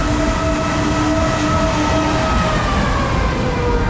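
Train passing on railway tracks at a station, a loud, close rumble of wheels with a faint clatter and a high tonal squeal gliding downward, continuous throughout without speech.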